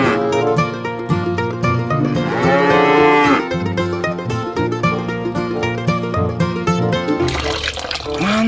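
A buffalo moos over a steady bed of cheerful children's music, the low bellowing call standing out near the middle before the music carries on alone.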